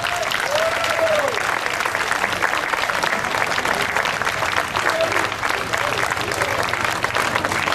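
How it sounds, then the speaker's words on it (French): Sustained applause from an audience at a pétanque event in Canada, dense and steady throughout as a player is introduced, with a few faint whoops rising above the clapping. "Je vous demande d'applaudir bien fort"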